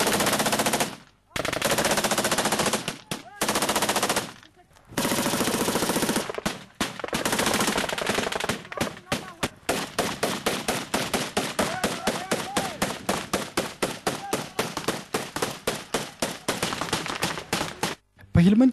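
Automatic gunfire erupts in village street fighting as soldiers and fighters exchange shots between houses: loud, rapid bursts and strings of repeated shots fill the whole stretch with only brief gaps.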